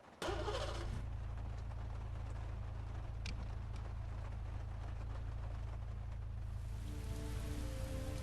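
Rain patters in the video game Heavy Rain, steady and close over a low droning hum, with a brief rushing burst at the start.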